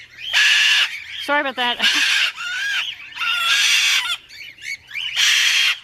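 A cockatoo at a parrot rescue lets out a series of loud, harsh squawks in quick bursts close by, with a person briefly speaking between calls.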